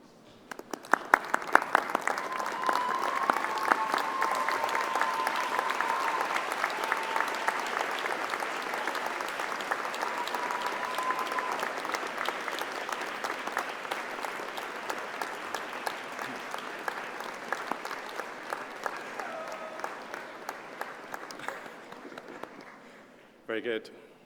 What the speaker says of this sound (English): join me in showing your thanks with a huge round of applause